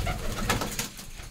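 Punjabi Malwai pigeons coo softly in a short, close burst of low, throaty calls, with a few fluttery sounds and no talk.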